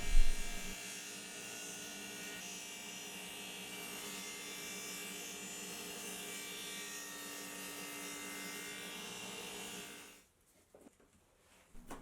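A power tool cuts a 45-degree channel about 3/4 inch deep in wood for coat hooks, giving a steady, close, high-pitched whine for about ten seconds before stopping abruptly, with no talk.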